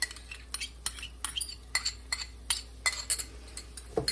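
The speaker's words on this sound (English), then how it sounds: "we're going to let that cook in for about 1 minute, stirring constantly" Metal utensil scraping and clinking against a pot as minced garlic and vegetables are stirred constantly, a steady run of sharp taps and scrapes with no voices.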